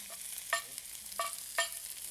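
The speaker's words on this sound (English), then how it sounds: "Stir fry this. Do not overcook." Spatula strokes scrape and toss mushroom, zucchini, Chinese lily bud, celery, carrot and Chinese daikon in a hot pan. About four sharp, close stirring scrapes ride over a light steady sizzle, with no voices.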